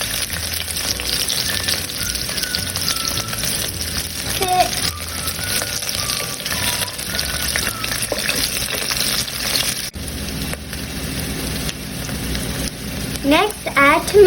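Onions and garlic sizzle steadily in hot oil with cumin and red chilies for a quinoa sambar, a dense continuous frying hiss close up, with stirring scrapes near the end.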